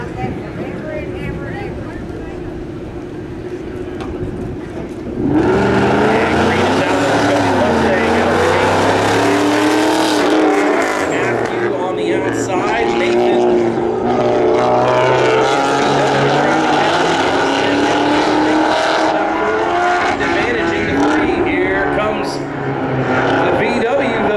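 Drag race cars at a winter spectator drags event rumble loudly as they back up toward the starting cones, a deep sustained engine drone that swells after a quieter start, with an announcer talking over it.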